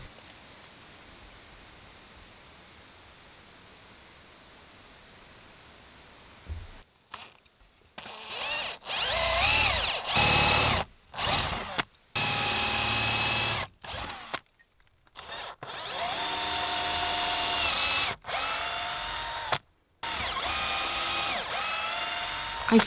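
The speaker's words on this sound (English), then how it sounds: "I'm measuring where I'll be making some bore holes to screw them to the underside of the desk." A power drill bores holes into the underside of a wooden desk, starting after a quiet stretch, then loud whirring bursts that stop and restart several times, close by.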